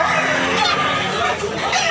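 Roosters crow and cluck amid steady crowd chatter at a busy Sunday chicken market in Tabunok, Cebu, the bird calls close and loud over the hubbub.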